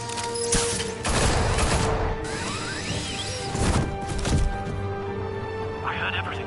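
Gunfire crackles in Batman: The Telltale Series amid crashes and thwacks, bursts of sharp loud shots and impacts, with voices shouting between them.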